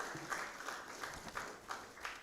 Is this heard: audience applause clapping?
yes